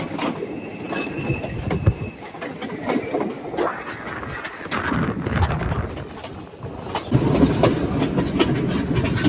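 A crowded train on the Nuwara Eliya to Ella line in Sri Lanka rumbles steadily along with rhythmic clacking and occasional squealing wheels, loud and continuous, no voices.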